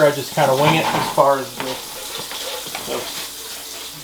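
Warm water runs from a tap in a steady hiss and splash, fairly close and loud, while a person talks over the first part.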